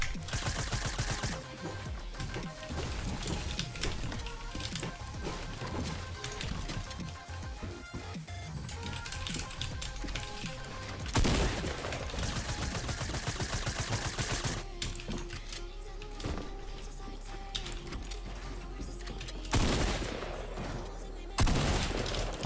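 Pistol gunfire in the video game Fortnite, rapid strings of sharp shots amid a dense, busy game soundscape, steady and fairly loud across the whole stretch.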